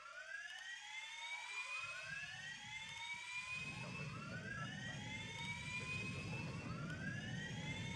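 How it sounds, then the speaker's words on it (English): Airliner jet engines spooling up in the Airline Commander flight game, a steady low roar building under rising, sweeping whines that repeat every couple of seconds, loud and continuous with no talking. "let's start the engines now"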